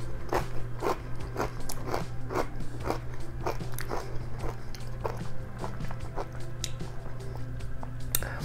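Crisp baked parmesan cheese chips crunched and chewed up close, a rapid series of sharp crackling bites and chewing crunches repeating steadily over a low background hum, with no talking.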